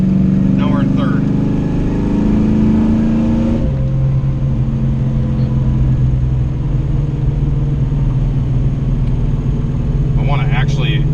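A big block Cutlass pulls away hard from a stop, its loud engine roar climbing in pitch and then dropping as the transmission shifts, holding a steady drone afterward, with brief talk near the start and end.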